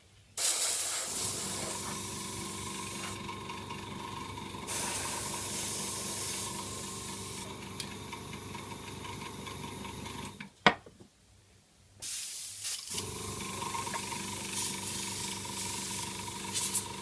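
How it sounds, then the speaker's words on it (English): An airbrush sprays paint in a rust effect onto a model car, a steady close hiss running for long stretches, cutting out briefly near the end and then resuming. "Clogging up my airbrush a bit."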